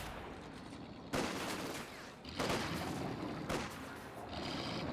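A sniper fires in a Company of Heroes 2 one-versus-one match, with three sharp, echoing shots spaced about a second apart over steady battlefield noise.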